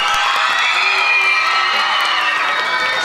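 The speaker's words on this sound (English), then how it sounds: "Give her a big old cheer." Elementary school morning assembly crowd, mostly children, cheering and whooping for a teacher, a dense sustained roar of shouting voices filling the room for the whole stretch.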